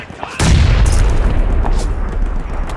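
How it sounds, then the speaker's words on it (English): A grenade goes off on a battlefield: a sudden loud boom lands early, then a long rumbling roar with debris-like crackle that fades slowly. "Oh, that's a grenade."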